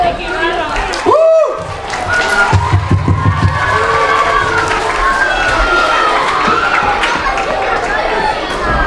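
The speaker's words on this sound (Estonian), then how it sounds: "Veel kord üks suur aplaus" An audience at a school playback performance by grades 1–4 erupts in cheering and clapping. Excited children's shouts and chatter ride over the steady crowd noise after a brief voice at the start.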